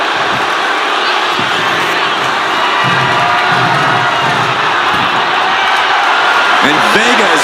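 Video game wrestling crowd in WWE 2K26 cheering steadily through a women's match, a loud, dense roar of many voices that swells slightly toward the end, with commentary voices over it.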